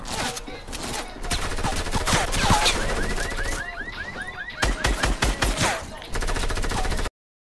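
Rapid bursts of automatic gunfire and scattered shots from a Fortnite battle royale match, loud and dense with intermittent volleys, ending in a final rattling burst; a voice speaks briefly in the background.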